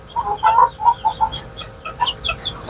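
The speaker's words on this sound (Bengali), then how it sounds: "এই যে মুরগিগুলো দেখেন" Several sick chickens on a poultry farm cluck close by in quick, uneven bursts, their chattering calls overlapping with no talking.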